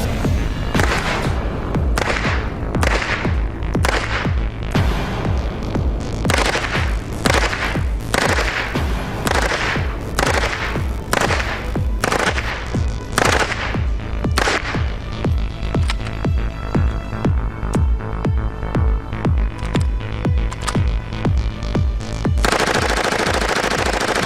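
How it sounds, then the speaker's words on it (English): Gunfire from a rifle: a run of separate semi-automatic shots, then rapid full-automatic bursts blending into sustained, loud, close-range fire with no talking. "I'm going to shoot a few rounds semi, and then I'm going to shoot a few bursts full"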